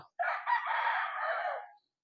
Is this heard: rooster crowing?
yes